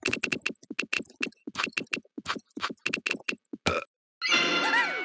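Rapid clattering keystrokes on a computer keyboard while answering a question in the You Don't Know Jack sports trivia game, a close burst of irregular taps lasting several seconds, then a short game sound effect.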